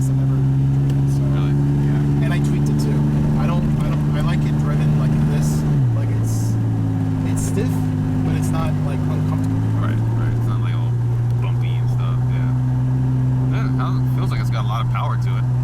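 A DeLorean with a manual gearbox cruises along with a steady engine drone and a shift in pitch partway through, while people talk inside the cabin.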